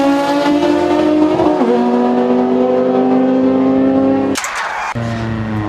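Hot Wheels diecast cars roll down a six-lane Horsepower Speedway track, a loud sustained rolling whine with a sharp clatter near the end, then the rumble resumes.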